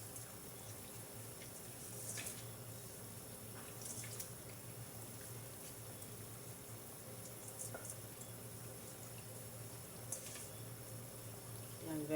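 Water boiling in a cooking pot while Hainanese chicken is being made makes a faint, steady bubbling hiss with occasional small pops and clinks throughout.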